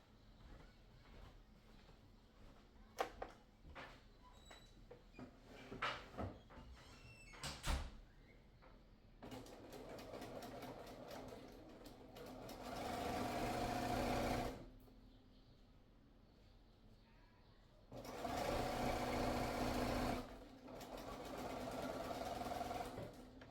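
A sewing machine stitches the side seam of a caftan in two sustained runs of close mechanical whirring. Scattered knocks and handling thumps of fabric and tabletop come before the stitching, with a brief pause between the runs.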